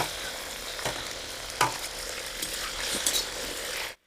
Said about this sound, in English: Now we're going to add the meat. Now add the meat. Stir it, stir it, stir it.